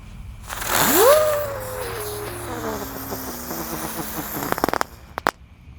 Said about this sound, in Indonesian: ada mercon Trate Pretek guys yang warna hijau. Kita nyalakan.